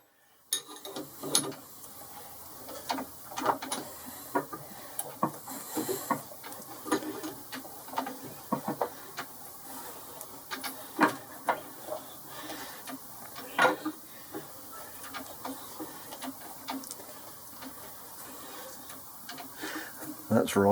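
A threading die turned by its lever on a lathe, with the headstock handled by hand, cuts thread in repeated ratcheting, clicking metal bursts close by, steady and uneven in rhythm throughout.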